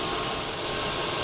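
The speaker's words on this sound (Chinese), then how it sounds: "现在开启的是快速降温模式， 这个模式的噪音最大， 有61 dBA，" An outdoor air conditioner runs in fast cooling mode at its loudest setting, a steady, close broadband whoosh of fan air with no pauses and no voices.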